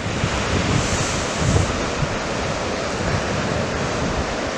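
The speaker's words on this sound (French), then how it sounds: "c'est dommage que ce vent s'est levé. Ça vient gâcher un petit peu le plan d'eau. C'est légèrement ridé, clapoteux." Wind blowing over a choppy, rippled sea at Anglet beach, a steady broadband rush of surf and gusts filling the whole span, with microphone wind buffeting and a slight swell near the middle.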